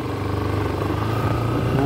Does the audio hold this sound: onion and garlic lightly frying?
no